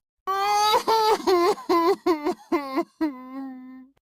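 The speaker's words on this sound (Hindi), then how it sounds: "उसी समय बाहर से एक बच्चे के रोने की आवाज आती है।" A child cries outdoors in a run of rising and falling sobbing wails, close and fairly loud, ending in a long drawn-out moan.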